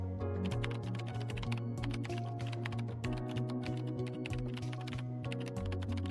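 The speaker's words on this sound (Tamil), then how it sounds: "பிரிண்ட் ஹலோ வேர்ல்டுன்றது வந்து நான் ஃபஸ்ட்டு வந்து டைப் பண்ணிக்கிறேன்." Fast, steady typing on a computer keyboard, close and crisp, with continuous key clicks and occasional heavier strokes, under a faint low hum.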